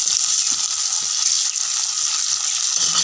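Onions frying in a pan for an Assamese taro-leaf and fish dish, a steady close sizzle with bright crackling hiss running continuously throughout, no talking.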